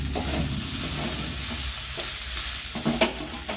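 Food in a pan is stirred over a constant close sizzle, with soft scraping strokes and a few sharper utensil knocks near the end.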